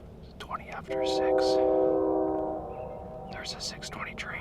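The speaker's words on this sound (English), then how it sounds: "there's a 6:20 train." A train horn blows one long sustained blast from a distance across open Montana country at dawn during a turkey hunt, with quiet whispered talk before and after it.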